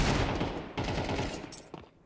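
MP9 submachine gun fire rattles in a professional Counter-Strike match, a loud, rapid, continuous burst of shots that tapers off near the end with a couple of sharper reports.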